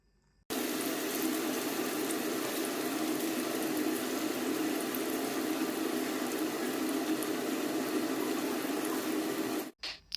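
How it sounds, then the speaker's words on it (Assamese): A constant bubbling roar of chicken kofta balls frying in hot oil, steady and close, running without pause before ending abruptly. "তেলখিনি গৰম হোৱাৰ পাছত ইয়াত মই এতিয়া চিকেনৰ বলকেইটা ভাজি ল'ম"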